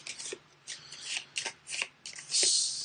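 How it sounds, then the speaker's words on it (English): A deck of cards is shuffled at a board game table, with several quick riffling bursts in an uneven rhythm, ending in a longer, brighter cascade of flicking cards, close and clear. "Give it a shuffle."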